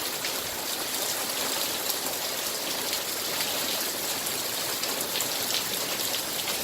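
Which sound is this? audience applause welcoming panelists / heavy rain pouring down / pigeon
heavy rain pouring down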